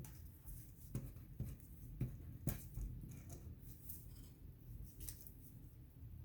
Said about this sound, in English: Sparing you all of the cutting